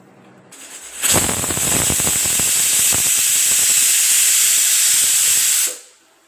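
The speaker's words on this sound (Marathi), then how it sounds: "फक्त एकच शिट्टी करून घ्यायची कमी गॅसवर" A pressure cooker on low gas releases a loud, steady hiss of steam for about five seconds after a sudden start, then cuts off sharply, with a high whistling tone on top.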